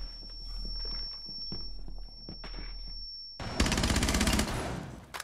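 Rapid automatic gunfire from a video game weapon bursts out after about three and a half seconds and continues loud and dense. It follows a stretch of scattered thuds, footsteps and a steady high whine, with no speech.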